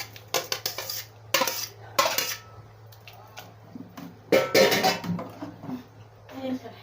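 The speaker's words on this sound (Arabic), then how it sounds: "ننزل بقى فيه الخضار اللي محتاج سوا شويه وهو سخن كده، اللي هو الجزر، الفلفل، اللفت" Carrots, peppers and turnips are dropped into a hot pot while making pickles, producing a series of close clattering and clinking hits against metal in irregular bursts, with quiet gaps between them.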